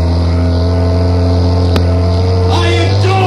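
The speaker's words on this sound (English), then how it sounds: "Boat coming this way." A motorboat approaches across open water, its steady engine hum loud and close for several seconds, with a rising whine and splashing swell building near the end.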